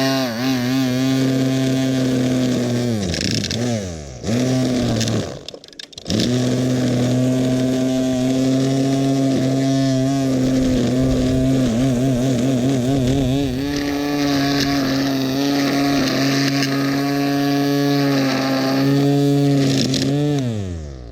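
A Greenworks 13-inch 40V cordless string trimmer whirs loudly and steadily up close while edging Kurapia ground cover, its motor pitch rising and dipping, with a brief cutout midway.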